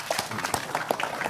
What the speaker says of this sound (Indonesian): Tepuk tangan untuk kiai kita ya